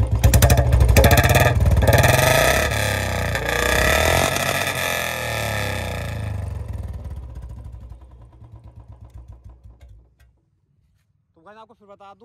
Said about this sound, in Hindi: बाकी मैं आपको थंप की आवाज़ सुना देता हूँ।